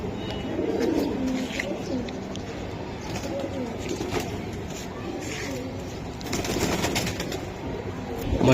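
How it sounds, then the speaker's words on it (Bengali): Pigeons at a bustling pigeon market coo in low, overlapping throaty calls under a steady crowd murmur, while people nearby talk over the noise. "এটা নাপ্তা কবুতর ভাই"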